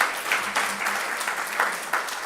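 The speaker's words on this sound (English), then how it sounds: "Another round of applause" Applause from a conference audience, steady clapping with a few louder bursts, fairly close and continuous throughout.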